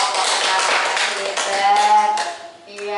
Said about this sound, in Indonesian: boleh tepuk tangan buat kelompoknya Mas Angger